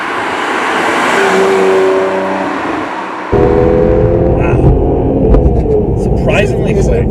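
A BMW 1 Series M with a six-cylinder engine pulls hard, its engine note rising under steady road and cabin noise and then surging louder after a gear change, with people talking inside the car.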